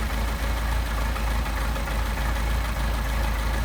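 A Mercedes 190SL engine idles on Solex carburetors with a steady, loud low rumble that holds evenly throughout, close by and with no voices over it.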